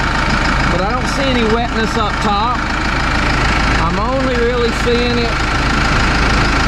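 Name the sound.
tractor engine running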